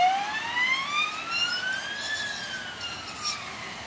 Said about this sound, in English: Hey, that's not a coppers, it's an ambulance.